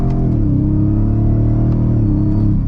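Loud, close engine of a 2023 Ford F-150 Raptor R 700 hp, revving with a deep rumbling growl as it downshifts on paddle command, the pitch holding steady and then easing slightly toward the end.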